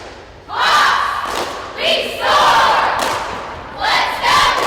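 A group of high school cheerleaders chanting loudly in unison at a football game, several sustained shouted phrases in a row, close and forceful with crowd-like energy.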